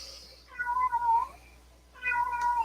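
A cat meows twice during a yoga session, two clear, drawn-out calls nearby with a short quiet gap between them over a faint low hum.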